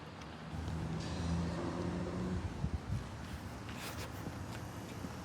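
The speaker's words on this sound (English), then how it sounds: "Engine sounds good." A 2010 Ford Crown Victoria Police Interceptor with a bad fuel pump idles with a faint low hum that fades out after a couple of seconds, leaving quiet background noise.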